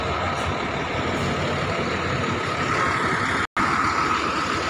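A Sugeng Rahayu economy bus on the Madiun–Solo–Jogja route rolls into a crowded bus terminal among other buses, a steady loud engine drone with busy traffic noise and a brief dropout near the end.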